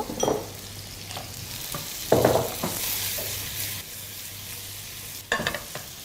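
Boiled potatoes and carrots fry with browned chicken in a pan, a continuous sizzle broken by several sharp scraping stirs of a spatula, close and fairly loud, with no voices.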